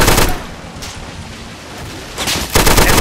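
An M60 machine gun fires in the Plastic Army Men video game, loud rapid bursts at the start and end with a rumbling battle wash in between.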